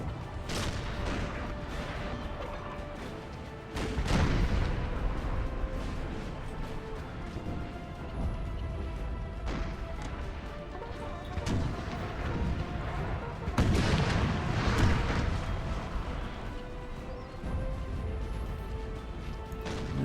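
Artillery fire in a Napoleon: Total War battle: repeated heavy booms and crashes scattered across a steady, dense battlefield din, some blasts close and loud, others duller and farther off.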